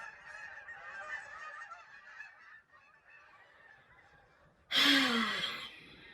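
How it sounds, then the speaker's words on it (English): A loud burst of goose honking breaks in near the end, harsh and close, after a stretch of quieter background chatter and calls. "Guys, the geese."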